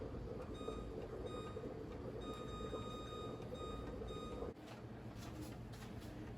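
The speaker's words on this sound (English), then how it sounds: "Okay, so my timer went off" Kitchen timer sounds off while macaroni boils on the stove, a steady pattern of thin electronic beeps over a loud, constant rumble of boiling and kitchen noise, stopping partway through.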